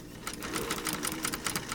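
A domestic sewing machine stitches fabric in a quick, steady run of rhythmic needle clatter, with brief stop-and-go bursts for a backstitch, close and clear with no talking.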